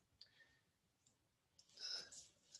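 Mouse clicks from a computer in drawing software, a faint click near the start and a few more later, close and quiet.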